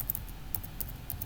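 Computer keyboard keys pressed while working in an online design editor, several quiet, sharp clicks spread over about a second at close range, no talking.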